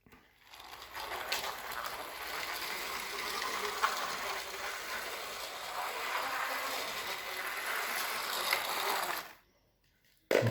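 A 4.5 volt toy motor whirring through a reduction gearbox as it drives a set of tracks, a continuous close grinding, rattling mechanical hum that runs steadily before stopping abruptly.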